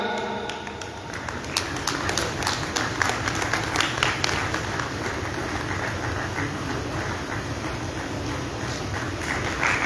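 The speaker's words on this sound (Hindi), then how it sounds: "तालियों की गड़गड़ाहट।" A crowd applauds at a book launch ceremony in a theatre hall, steady dense clapping for about ten seconds, loud and sustained without talk.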